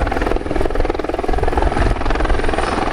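A helicopter flying a display demonstration at an air show in Cholet, a loud, close rotor chop with a pulsing rhythm over a steady turbine whine, continuous and dominant, with no talking.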